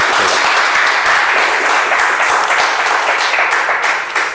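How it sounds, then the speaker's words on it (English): Audience applause for a speaker at a meeting, a dense sustained roar of many hands clapping close and loud, steady throughout and tapering slightly at the end, with no talking. "Please give her a round of applause"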